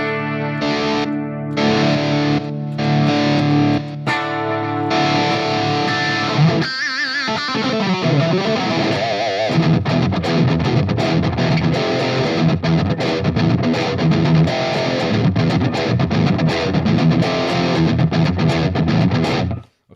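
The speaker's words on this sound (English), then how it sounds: "when I switch between the clean and distortion channel, the gapless is absolutely" Electric guitar played through a Fractal distortion channel on a preset modeled on the Bogner Ubershall amp, sounding loud and continuous throughout, with heavy saturated chords and riffs and a brief change in texture partway through.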